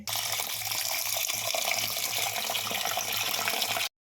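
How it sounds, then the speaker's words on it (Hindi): Rice is being washed in a kitchen under a steady, close rush of running water with a faint low hum beneath, continuing evenly until it stops abruptly. "थोड़ा सा चावल और ले लेंगे और इसको हम अच्छे से एक ही में धो के"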